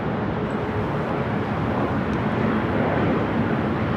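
A China Eastern airliner in a special CIIE livery departs LAX for Shanghai with a dense, continuous broadband roar, loud and unbroken throughout, with no voices.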